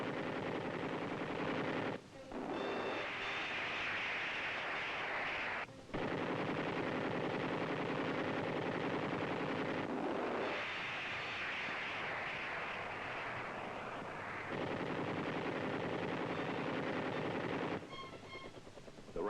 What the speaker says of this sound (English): enemy positions below are fired upon by our gunners